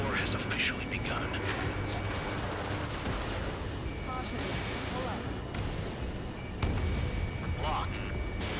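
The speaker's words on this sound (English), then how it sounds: "Fire the AA!" Sustained anti-aircraft gunfire from an air-defense battle in Ace Combat 7: Skies Unknown, a dense continuous rattle of rapid shots and distant blasts layered under radio-style voices.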